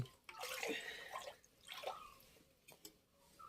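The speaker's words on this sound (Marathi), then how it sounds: "कशी तिकडून पाणी येतंय आणि हे पिण्याचं पाणी" Drinking water splashing and trickling in uneven bursts at a goddess temple near Wai, Maharashtra, close by and moderately loud, with brief pauses between gushes.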